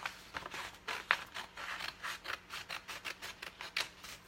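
Scissors cut vinyl letters apart, a close run of quick, rhythmic snips repeating steadily and fairly quietly with no talking.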